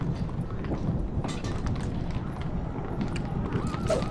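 Horse hooves clopping at a run in a Lord of the Rings video game, a steady rapid patter under dense game ambience and wind-like noise, continuous throughout.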